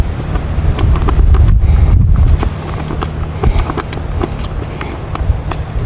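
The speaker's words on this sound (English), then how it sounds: "Pretty windy today. Not pretty windy, very windy." Very strong wind gusting across a golf course, buffeting the microphone in loud low rumbles for the first couple of seconds before easing, with scattered clicks and light knocks after.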